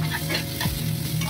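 Tomato and capsicum fry in a pan with steady, close sizzling and stirring throughout, with no voices.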